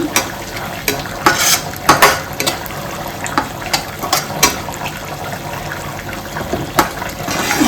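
Ghee sizzles in a pan while apple pieces are fried and stirred for apple payasam, loud close spatter with repeated scraping and clinking stirs in an uneven rhythm, no speech.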